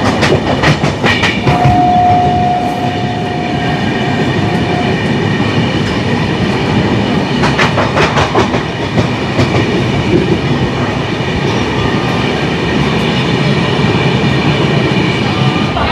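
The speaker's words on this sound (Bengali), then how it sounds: "সাঁতরাগাছির পর থেকে ফুল স্পিডে কিন্তু ট্রেন ছেড়ে দিল" Dhauli Express passenger train from Howrah to Puri running at full speed, a loud steady rumble of wheels and carriage with rhythmic clickety-clack bursts, heard from inside the coach with no talk.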